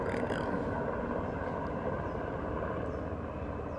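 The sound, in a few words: airplane flying overhead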